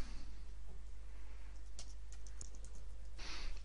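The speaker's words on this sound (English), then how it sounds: "You click within the placeholder and you type the text." Typing on a computer keyboard, a quiet run of light key clicks and taps in a short burst, faint against a low steady hum.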